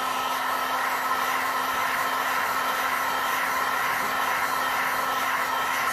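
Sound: heat gun blowing on resin sculpture

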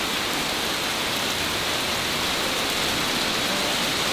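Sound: heavy rain falling on a paint booth under construction

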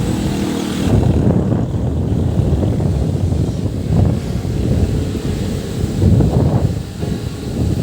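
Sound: strong wind blowing

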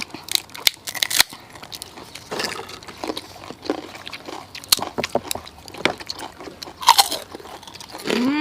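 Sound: crunchy chewing of crispy pork rinds with chili dip

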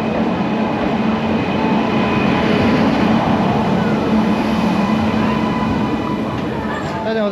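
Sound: train passing

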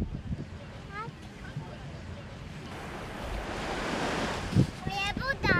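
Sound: ocean waves on a beach in Tenerife

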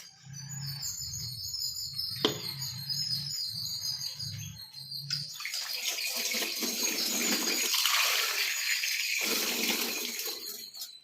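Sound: water poured into an iron vessel with banana flower peels

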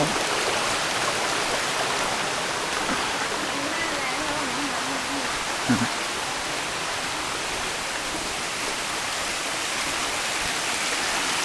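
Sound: water flowing along a hiking trail stream

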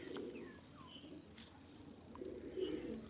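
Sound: pigeons cooing

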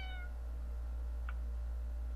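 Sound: cat meowing in the video game Fausts Alptraum

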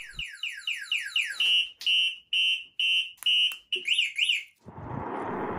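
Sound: electric bike security alarm sirens

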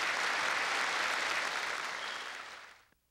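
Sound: applause for children's fire safety performance

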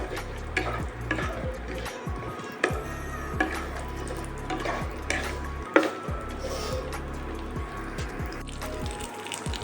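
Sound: cashews and raisins lightly frying in pan

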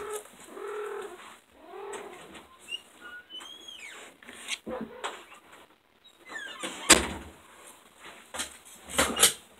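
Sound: cat meowing

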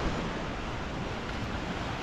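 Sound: sea waves lapping behind the speaker

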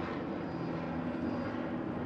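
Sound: helicopter flying overhead

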